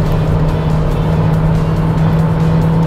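Inside a 2020 Renault Stepway, the engine drones steadily as the car accelerates, a loud, close, even hum with road and wind noise underneath and no audible gear change within the stretch; no one talks.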